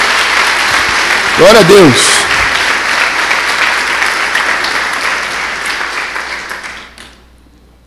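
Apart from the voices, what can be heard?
church congregation applause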